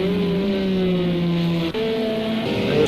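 Race car engines in Project CARS 2 during an endurance league race at Monza, a steady droning tone with a brief dip before the pitch shifts upward, with no one speaking.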